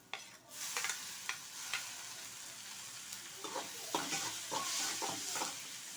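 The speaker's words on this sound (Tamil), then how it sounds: "ஒரு 2 நிமிஷம் மீடியம் ஃப்ளேமில் வச்சு நல்லா வதக்கிக்கிடுவோம்" Chopped onion and medium-size tomato sautéing over medium flame in a pan, a soft steady sizzle broken by repeated scrapes and clinks of a stirring spoon, close by and fairly quiet.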